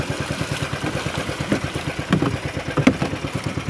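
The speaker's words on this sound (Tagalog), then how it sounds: "Pangit magminor ng makina." A boat engine idles roughly with a steady, rapid low chugging, close and fairly loud, with occasional clanks and knocks over the top.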